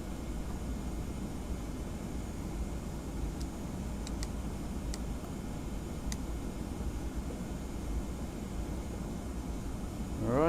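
Steady, even cockpit hum inside a Boeing 717 in the Prepar3D flight simulator game: a constant broadband drone with a few faint ticks, moderately quiet and without speech.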